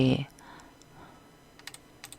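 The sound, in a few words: computer keyboard shortcut keys being pressed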